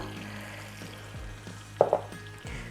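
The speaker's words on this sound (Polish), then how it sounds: "tutaj nam się cebulka może smażyć na oleju" Steady sizzling of chopped onion frying in oil, with occasional scraping and clinks of a utensil stirring the pan, and no voices.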